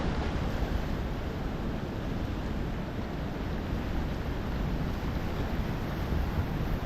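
Heavy surf from a raging sea with huge waves pounds a shore, a dense, continuous roar with wind buffeting the microphone, steady and loud throughout.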